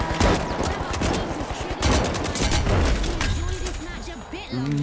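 Rapid gunfire in the arena shooter The Finals, bursts of shots loud and close, dense and chaotic over game noise, ending in a few scattered reports.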